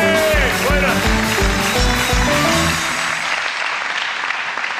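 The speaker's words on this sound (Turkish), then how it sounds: "Alkışlar Sıla için" A studio audience on a Turkish television game show applauds for contestant Sıla, a loud, steady wash of clapping that runs throughout, with rhythmic music pulsing beneath it for the first half before fading away.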